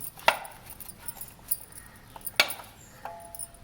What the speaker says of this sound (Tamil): மாங்காய் கொட்டையோட சேர்த்து அறியணும்